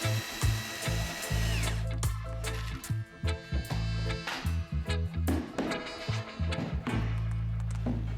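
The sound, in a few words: screwing wooden slats to panel and frame with a drill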